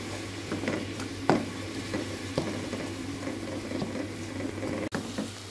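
Onions, garlic and ginger frying in a pan for mutton kofta curry, a continuous sizzle with a few stirring scrapes and one sharp knock near the end, no voices.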